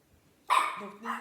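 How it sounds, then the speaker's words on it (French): A pet dog barks once, close by and sharp, in a brief quiet room, followed by a shorter softer yip. "il y a mes chiens qui se sont mis à aboyer"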